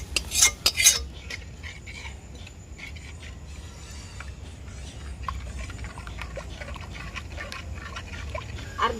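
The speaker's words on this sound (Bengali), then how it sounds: "একটু একটু করে দুধ দেব আর নাড়াতে থাকবো।" Milk being stirred while added a little at a time for making sweet kheer curd, heard as a few loud clinks of a spoon against a pot at the start, then softer continuous scraping and tapping taps, close up, with no speech.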